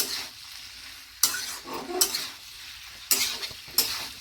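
Potatoes and tomatoes cooking uncovered in a pan over a low flame: a soft background sizzle with a few sharp scrapes and clinks of a spoon stirring against the pan.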